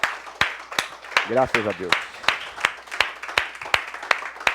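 A church congregation claps together in a steady rhythm, the beats landing about twice a second, while a voice speaks over the clapping.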